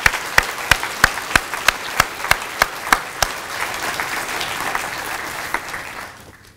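Audience applause at a 2023 University of Virginia School of Medicine biomedical sciences hooding ceremony, with about ten sharp claps standing out early over a steady wash of clapping that fades near the end.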